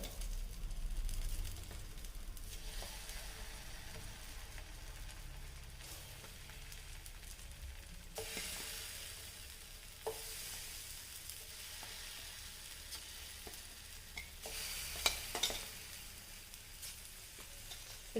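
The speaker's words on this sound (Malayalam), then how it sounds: "നമ്മുടെ നേന്ത്രപ്പഴം കൂടെ നമുക്കിവിടെ ഒന്ന് ചൂടാക്കി എടുക്കാം. ഈ ബട്ടറിനകത്തിട്ട് തന്നെ." Sliced plantain (nendran banana) frying in butter in a pan on low heat, a steady soft sizzle with occasional light clinks and stirring, no talk.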